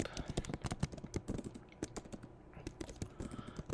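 Rapid, uneven clatter of keys on a computer keyboard, close and fairly loud, bursts of typing with a brief lull midway and no speech.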